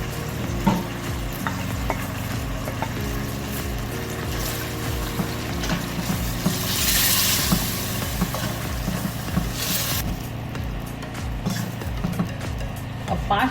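Chicken being fried and stirred in a pan with red chili powder, coriander powder, Kashmiri red chili powder and salt: a steady close sizzle with regular rhythmic scraping strokes of the spoon throughout.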